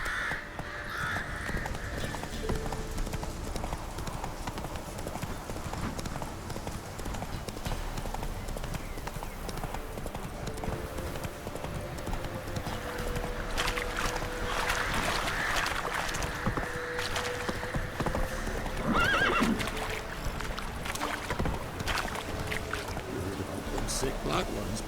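Roach, the horse in The Witcher 3 video game, clip-clops in a steady trotting rhythm under game ambience, with crows cawing and a voice speaking over it.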